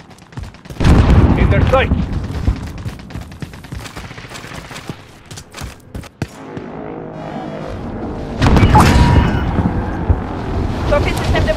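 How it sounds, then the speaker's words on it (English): Call of Duty Warzone gunfire and a frag grenade blast amid wind noise, heavy bursts of shooting and a loud explosive surge near the end, with voices talking between them. "Throwing frag."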